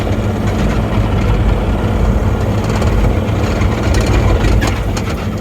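An excavator engine runs at a steady low heavy drone, loud and close, with faint clanking over it and no talk.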